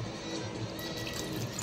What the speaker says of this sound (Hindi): और अब मैं डाल देती हूँ पानी